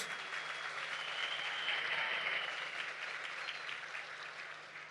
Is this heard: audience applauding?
yes